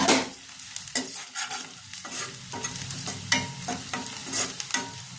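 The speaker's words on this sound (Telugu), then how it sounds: "ఉల్లిపాయలు అయితే వేగినాయి." Onions fry in a pan for homemade chicken curry, a close sizzle broken by repeated scraping stirs of a spoon against the pan, with no voices.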